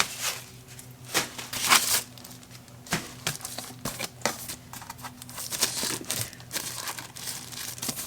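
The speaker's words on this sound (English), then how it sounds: "Plastic is kind of tucked in there. Pull that off." Plastic wrap crinkles and rustles in short, irregular bursts as it is pulled off a Ubiquiti UniFi desk phone during unboxing. The sound is close and fairly quiet.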